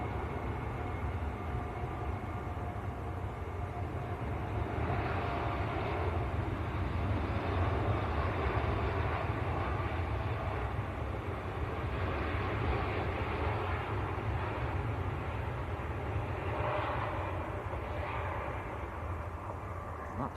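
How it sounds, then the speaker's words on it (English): A passenger airliner taking off at low power from Manchester Airport, heard from a spotting position as a steady, distant broadband jet roar that holds evenly throughout without voices. "Sounded like a very low powered takeoff."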